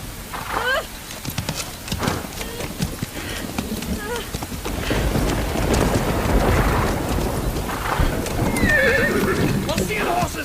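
Horses whinny and hooves clip-clop in the rain on a rural farm, with rainfall hissing steadily throughout and people calling out and talking over the animals.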